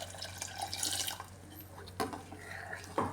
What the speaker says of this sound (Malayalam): ഇനി ഇതിലേക്ക് ആവശ്യത്തിനുള്ള വെള്ളം കൂടെ ചേർത്ത് കൊടുക്കാമേ.